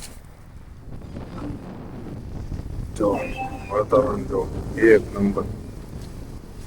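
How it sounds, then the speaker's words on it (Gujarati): Strong wind buffets the microphone outdoors at a village farm plot, a steady low rumble running beneath a voice that speaks throughout. "જો બહુ પવન છે અહીંયા"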